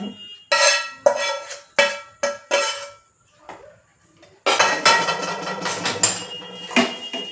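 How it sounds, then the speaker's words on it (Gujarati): A metal spoon spreads hot sukhadi mixture thinly across a thali, making a series of sharp clanks with short pauses, then a denser stretch of continuous scraping and clinking. "આપણે આ રીતે ચમચાની મદદથી પાથરીશું"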